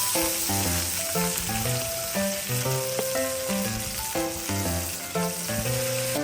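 Pan of food frying in oil, giving a steady close sizzle throughout, with a melodic music track playing over it.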